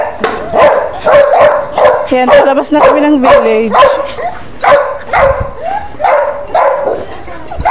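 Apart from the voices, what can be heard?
many dogs barking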